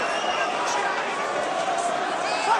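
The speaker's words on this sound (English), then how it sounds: "The crowd trying to carry Anthony Yard through the crisis." Boxing arena crowd roaring steadily for Anthony Yarde during his fight with Artur Beterbiev, a dense continuous wash of cheering and shouting with no clear breaks, loud and enveloping throughout.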